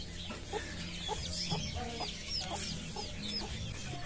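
Backyard hens cluck in repeated short calls among a small flock, with soft overlapping bird calls continuing steadily at close range and no talking.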